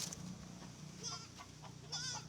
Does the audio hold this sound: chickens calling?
yes